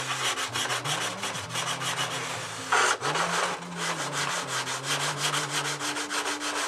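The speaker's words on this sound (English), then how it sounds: "Now I want to spend probably the rest of this session doing a real thorough sand out on this." Hand sanding of a wooden wing cowl block gives rapid rhythmic back-and-forth rasping strokes, close and steady, with a brief louder scrape near the middle and no talking.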